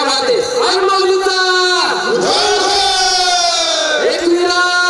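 Large crowd at an outdoor seafood festival in Juhu Koliwada, Mumbai, cheering and shouting loudly and continuously, with raised voices and whoops rising and falling throughout.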